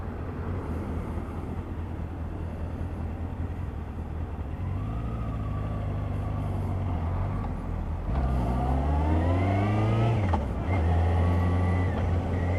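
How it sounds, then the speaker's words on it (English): Honda CBF600SA motorcycle engine droning steadily, its pitch falling in stepped drops as the rider downshifts through the gears and brakes to slow, with a brief rev rise near the end; loud and close, no talk. "Coming down in my gears, bit of front brake, onto the back brake, so I'm going slow."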